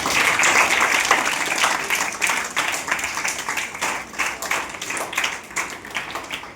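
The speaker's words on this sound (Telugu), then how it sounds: "ఆ భారతదేశ యోగా యొక్క గొప్పతనం చెప్పి గుర్తింపు తెచ్చిన మన లీడర్ నరేంద్ర మోడీకి మనం చప్పట్ల ద్వారా ధన్యవాదాలు తెలియజేస్తాం." Audience applause at a school fitness awareness talk honouring Narendra Modi, a crowd clapping loudly at first, then thinning into looser, more separate claps.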